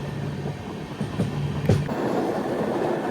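Charminar Express running on the approach to Chennai Egmore, a steady rolling rumble with a low hum and a couple of brief clanks or squeals, heard from on board with no voices.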